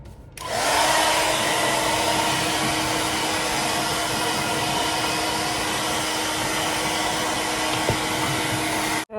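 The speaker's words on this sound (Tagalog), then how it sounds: "kaya dapat natin yan i-blower" A hair dryer blows on very thick hair, starting abruptly and holding a loud, steady whooshing roar with a faint whine for several seconds before clicking off at the end.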